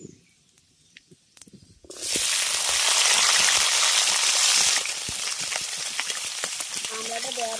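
Cut hog plums (amra) hit hot oil with dried chili and five-spice, bursting into a loud, close sizzle that later settles into steady frying with stirring scrapes.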